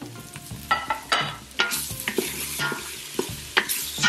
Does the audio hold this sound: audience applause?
no